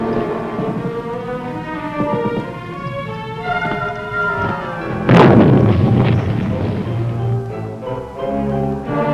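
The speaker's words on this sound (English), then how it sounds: "finally the firepower of Delta Company's 1st Platoon begins to tell, and the enemy tries to disengage" Gunfire during a 1966 Vietnam War firefight, with heavy booming reports and one loud blast near the middle, rumbling under a steady tonal music bed.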